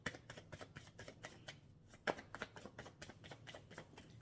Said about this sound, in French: maintenant 3 cartes